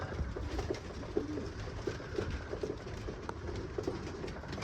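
Racing pigeons in a pigeon loft give soft, repeated coos over a steady low background rumble, heard from fairly near but at a gentle level.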